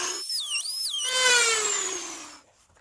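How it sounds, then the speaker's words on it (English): A drill whines as it burns a hole through fabric pannier bags for a Lectric XP e-bike, its pitch swooping and then settling into a steady high scream for about two seconds before cutting off. "And then I just burn a hole with this drill right through it."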